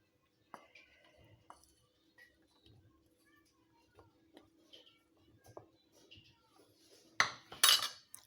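Spoon scraping and clinking against a bowl while dried fruits and nuts are stirred into fruit sponge cake batter, faint scattered clicks and taps close up, ending in a few louder clattering knocks.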